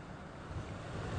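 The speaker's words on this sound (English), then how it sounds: "It is very windy." Strong storm wind and surf at Ocean City make a brief, steady roar of gusting wind and crashing waves, with no voices.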